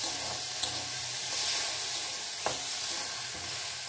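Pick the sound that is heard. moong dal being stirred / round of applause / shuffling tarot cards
moong dal being stirred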